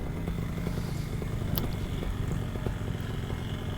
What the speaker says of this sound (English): There goes Dylan on his dirt bike.